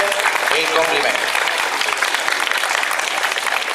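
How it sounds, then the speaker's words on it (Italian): An audience gives steady, dense applause for a child named Alice at an outdoor children's award ceremony in Cassano all'Ionio, a continuous wash of many hands clapping at full loudness. "Facciamo l'applauso ad Alice e il complimento"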